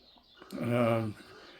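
A wild pigeon coos once, a short soft throaty call in an otherwise quiet outdoor setting, with faint background noise before and after.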